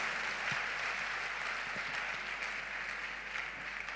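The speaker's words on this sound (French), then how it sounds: "Acclamons pour Jésus." A church congregation at a French-language worship service applauds for Jesus, steady dense clapping sustained at even loudness throughout with faint voices mixed in.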